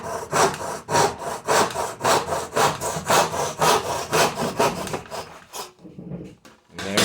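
A miter saw tilted for a bevel cuts through wood in quick, steady back-and-forth rasping strokes, close and loud, stopping abruptly near the end as the cut finishes.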